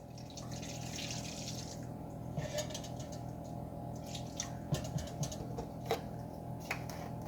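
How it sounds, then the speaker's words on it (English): About a cup of milk is poured for French toast, a quiet, continuous liquid trickle over a low steady hum, with a few faint clicks scattered through. "And I'm going to pour 1 cup of milk."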